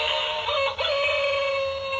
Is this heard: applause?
no